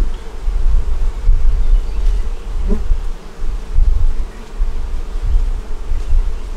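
Honey bees crowd an overflowing hive, their dense buzzing drone loud and close throughout, swelling and dipping slightly with no talk over it.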